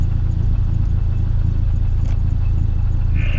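An autocross car idles with a steady, loud mid-range engine rumble before pulling away at an Iowa Region SCCA event at Hawkeye Downs, with no voices over it.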